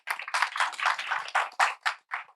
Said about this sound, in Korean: 여러분 박수 좀 부탁드립니다.